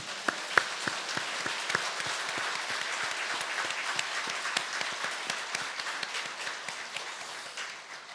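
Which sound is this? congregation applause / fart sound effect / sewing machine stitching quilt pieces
congregation applause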